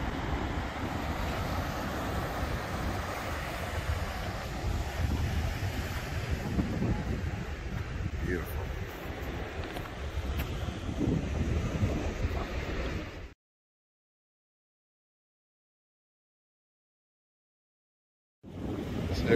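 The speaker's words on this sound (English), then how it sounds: "So there's the ocean." Ocean waves and steady wind rush at sandstone sea cliffs in Storm Canyon, California, a loud continuous roar with buffeting wind noise for about thirteen seconds, then silence before the sound returns briefly at the end.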